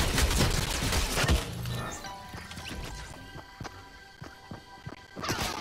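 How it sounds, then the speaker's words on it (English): Gunfire in the Fortnite video game, a loud burst of shots followed by scattered sharp cracks and thuds spaced across the clip, with another dense burst at the end. "They're shooting me."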